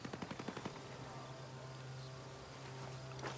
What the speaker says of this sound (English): there's like machine gun fire in the background.